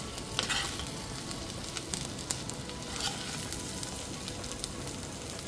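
Onions and bell peppers fry in a kadhai for kadhai paneer, a steady close sizzle with occasional stirring scrapes and pops throughout, no voices.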